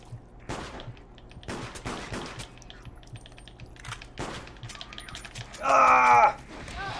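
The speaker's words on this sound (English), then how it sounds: "Gun!" Gunfire in the horror video game Silent Hill: Downpour: scattered bursty shots spread over several seconds under a steady game hum, with a brief higher tonal effect near the end.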